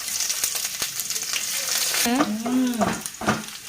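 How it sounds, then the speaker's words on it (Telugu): Sliced onions hit hot oil with whole garam masala spices, giving a loud, steady sizzle and crackle; partway through, a voice talks over the frying. "పొడుగ్గా కట్ చేసి పెట్టుకున్న ఆనియన్స్ని ఇందులో వేసేస్తున్నాను"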